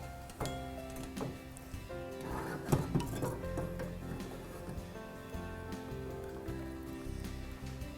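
Metal lids are set onto jars of home-canned salsa, making a few light clinks and taps against a steady background hum, with the clearest cluster of clatter near the middle.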